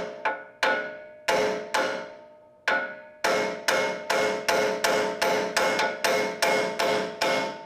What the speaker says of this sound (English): take a hammer, and I just like to put it right here on the side and wrap it a few times